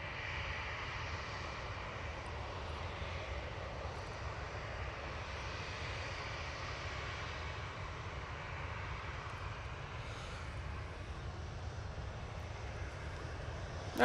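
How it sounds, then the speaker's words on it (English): A Jet2 Boeing 737-800 airliner approaches to land at Manchester Airport with a steady, distant engine roar that holds at an even level for the whole stretch, with no voices over it. "Jet 2 coming down towards us using the 737-800"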